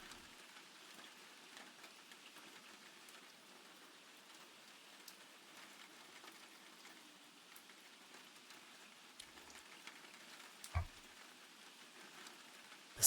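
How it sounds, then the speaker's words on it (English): Rain falls steadily in a video game scene, a soft, even patter with occasional louder drops, faint and continuous without any voices. "The sound of rain in this scene,"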